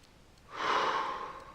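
A single deep breath, a slow airy inhale-exhale swelling up and fading over about a second, close and clear with no talk, taken while moving the whole body during a guided relaxation.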